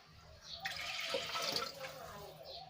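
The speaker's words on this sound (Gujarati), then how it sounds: "આપણે એને બાફવા માટે પાણી એડ કરીશું તો અહીંયા હું ત્રણ ગ્લાસ જેટલું પાણી એડ કરું છું" Water pours in a steady splashing stream for about two seconds into a metal pressure cooker, close by, then stops.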